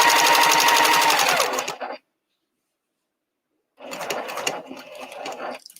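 Sewing machine stitching binding onto a quilt, running loud and steady for about two seconds, falling silent, then starting again in a busier, slightly uneven burst.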